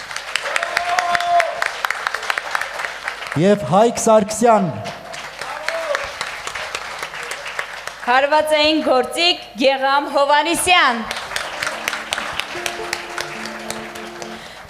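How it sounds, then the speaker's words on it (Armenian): An audience at a live Armenian concert applauds the musicians in loud, steady waves while an announcer introduces the performers over the clapping. "եկեք բարձր ծափահարություններով ներկայացնենք նրանց"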